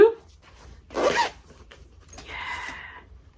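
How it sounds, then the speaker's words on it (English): A zipper on a small pouch is pulled open or shut in a couple of quick, scratchy strokes, close and fairly quiet, amid a faint dog-like noise and low background hum. "Little zipper pouch."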